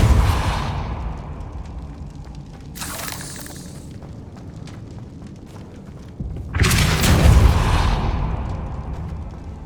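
Depulso spell cast in the Hogwarts Legacy video game: deep booming whooshes with two strong bursts over a rumbling game soundscape, with no one talking.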